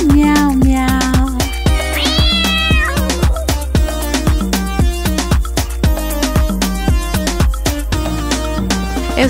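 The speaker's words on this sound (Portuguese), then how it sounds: "um gato me acordou e disse miau, miau, miau" A cat meows repeatedly over a bouncy children's song for kids, with the meows mixed into a steady beat of percussion and backing music rather than heard alone.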